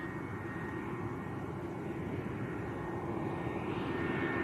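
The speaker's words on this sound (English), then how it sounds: "EasyJet from Paris Charles de Gaulle, A320, Austrian registered" An EasyJet Airbus A320, Austrian registered, arriving from Paris Charles de Gaulle on short final at Arrecife airport, Lanzarote: a faint, steady distant engine rumble and whine, alone with no talk.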